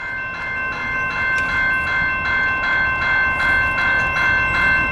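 An Amtrak passenger train, number 352, passes the South Avenue road crossing in Battle Creek, Michigan, its wheels clicking in a steady rhythm under the constant ringing tones of crossing bells, loud and near.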